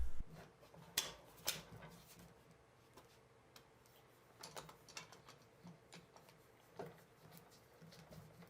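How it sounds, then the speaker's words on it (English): Harbor Freight 24-inch parallel jaw clamps tightened on a wood glue-up for a Roubo workbench sliding deadman, giving quiet, irregular mechanical clicks and ratcheting ticks with a few sharper knocks, close by and faint. "I'm using my 24-inch parallel jaw clamps that I've got from Harbor Freight."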